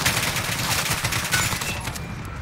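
Rapid bursts of automatic gunfire in Call of Duty Modern Warfare, played on PS4, crackle continuously at close range, loud and dense with no pauses.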